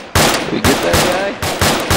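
Gunfire from a military video game: several loud, close bursts of rapid shots in quick succession, each sharp and cracking, with brief gaps between volleys.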